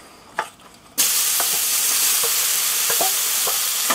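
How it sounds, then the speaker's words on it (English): Potatoes hit hot olive oil on a griddle with a sudden loud, steady sizzle that continues evenly, broken by small pops and crackles. "So we're going to add some olive oil to the griddle. And then we're going to add in the potatoes."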